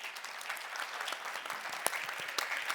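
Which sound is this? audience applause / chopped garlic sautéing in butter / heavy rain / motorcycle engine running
audience applause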